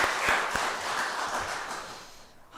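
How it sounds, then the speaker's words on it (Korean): A church congregation claps to encourage and praise members during a Sunday afternoon service, a moderate roomful of applause with a few sharper individual claps, gradually thinning. "우리 박수로 격려하며 또 칭찬하는 박수를 하겠습니다"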